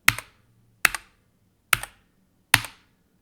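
Wooting 2 analog keyboard switches struck hard, four sharp separate keystrokes at an even pace, each with a bright ringing ping tail, close and alone.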